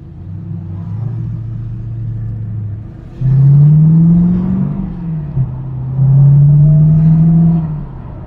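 TVR Chimaera in largely standard form driving on the road, its engine droning steadily, then rising in two louder surges as it accelerates, with a brief dip between them, close and without voices.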